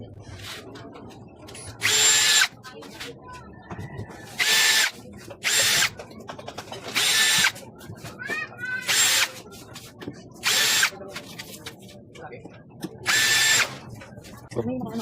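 Power drill backing screws out of a 24V 100Ah battery case: about eight short loud whirring bursts separated by pauses, with quiet speech between them.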